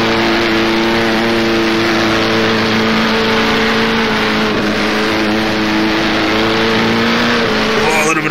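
A 1937 Grand Prix race car in the rFactor racing game screams at high speed through a corner, its steady, loud engine drone holding close and unbroken throughout with no talk.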